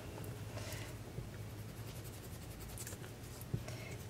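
Pencil scribbling and erasing with a Faber-Castell grip eraser on paper, a faint continuous rubbing and scratching with small bursts of strokes, close and quiet, no talk.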